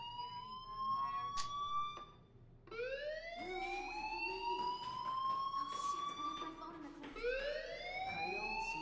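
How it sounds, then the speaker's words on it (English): A fire alarm wails inside the Life is Strange Remastered video game, its rising, sweeping siren tones repeating loud and steady across the whole stretch with faint background sound underneath. "do you hear that fire alarm?"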